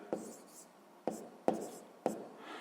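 A pen writes a math solution on paper in four separate bursts of scratchy strokes, each starting with a sharp tap, close and fairly quiet against a silent background.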